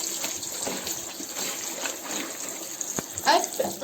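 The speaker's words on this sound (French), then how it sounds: "C'est vraiment juste histoire de les rincer." Water runs steadily from a tap while cloth diapers are rinsed, a continuous close splashing gush with someone speaking French over it.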